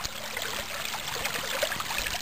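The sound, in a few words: creek water flowing along a trail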